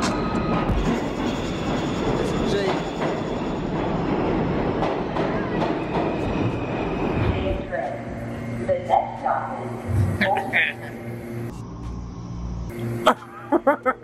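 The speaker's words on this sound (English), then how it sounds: "we're taking the subway, and not the subway, but the actual subway" Loud, steady rumble and rattling of a New York subway car in motion, with wheel clatter, then quieter stretches with brief clunks and squeaks as it slows.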